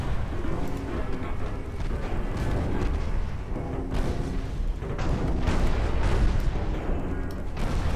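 A conduit explodes in a Napoleonic-era naval battle strategy game, rumbling blasts and booming bursts rolling continuously for eight seconds with sharper cracks standing out near the middle.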